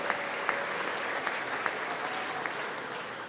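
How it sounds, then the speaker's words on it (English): A large audience in the chamber at a State of the Union address keeps up a long, steady wash of applause, dense and unbroken, with faint scattered shouts and a few louder claps rising out of the roar. "we are clapping for a long time"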